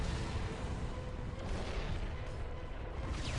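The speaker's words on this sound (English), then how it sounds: "Drop an Earthshake around right on top of them." Continuous booming artillery rumble and blasts from an Earthshaker barrage in the strategy game Dawn of War: Ultimate Apocalypse, dense, loud and unbroken throughout.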